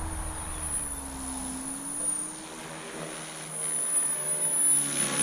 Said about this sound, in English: That'll sound different with that main drive motor.